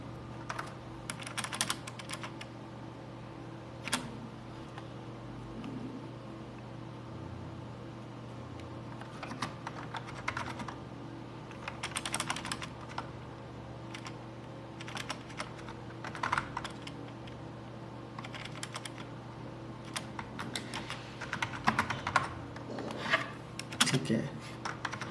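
Someone types on a computer keyboard while filling in a LinkedIn profile: irregular bursts of fast key clicks separated by short pauses over a low background hum, close and fairly quiet.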